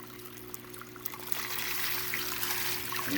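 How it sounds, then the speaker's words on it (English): Water pours straight down from the disconnected inflow hose of a SunSun 304B canister filter on a native fish tank, a steady close trickle that swells into a fuller splashing stream. "now I knocked my bottom piece off of there, so the water's just shooting straight down"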